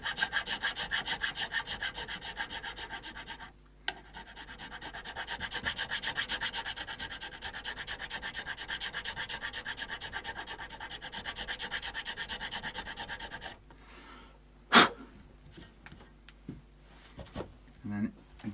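A metal file rasps steadily back and forth on a Tokai Firebird guitar during a setup, close and fairly quiet, with a brief pause, a sharp knock and a few softer strokes near the end; someone talks briefly.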